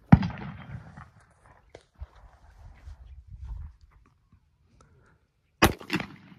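Shots from a Glock 43x pistol fired outdoors on a range, one sharp crack at the start and a loud report near the end followed by a quick second shot, separated by quiet rustling.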